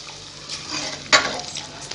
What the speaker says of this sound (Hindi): यहाँ पे अच्छे से इसकी कर लेंगे हम भुनाई।